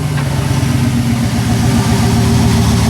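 A turbocharged LS-powered burnout truck that sat unused for three years idles steadily, a deep, even, rumbling engine note heard up close with no talk.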